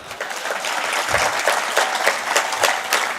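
An audience claps together during a public talk about Raigad fort, producing a dense, steady wash of applause that holds at an even loudness for about three seconds, with no voices heard over it.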